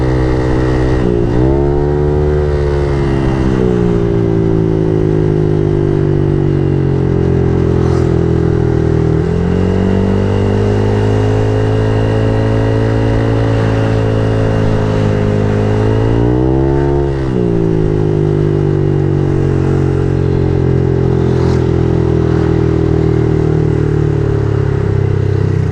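Honda Click i125 scooter with an MTRT EVO 2 exhaust and silencer fitted, engine droning loud and close with a steady hum and several rising rev swells throughout, no talk.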